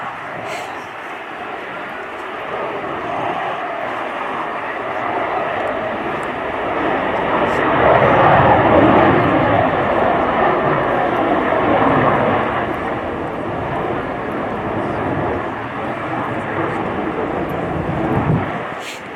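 An F-35B Lightning II jet at an air display hovers and is flown sideways along the runway centre line, then accelerates out of the hover into conventional flight, giving a loud, sustained broadband engine roar that swells midway, with faint voices underneath.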